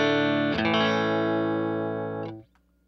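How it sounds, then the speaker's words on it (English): Electric guitar with a clean tone and no distortion: a single strummed chord that rings out brightly for about two seconds, then is muted, alone and fairly close. "This is a clean tone."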